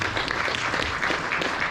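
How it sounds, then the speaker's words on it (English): Audience applause for the Portugal team at a European veterans event, a steady dense wash of many hands clapping together throughout, fairly close and full. "big round of applause for Portugal"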